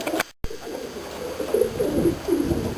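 Racing pigeons in a roofed loft coo softly and repeatedly, a low throaty murmur from several birds that grows fuller in the second half after a brief dropout near the start.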